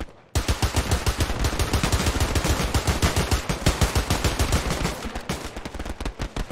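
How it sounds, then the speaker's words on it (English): Sustained rapid automatic gunfire in the World War II shooter Hell Let Loose, a dense run of sharp cracks in quick rhythm for several seconds, loud and close, with no talking over it. "He's still returning fire."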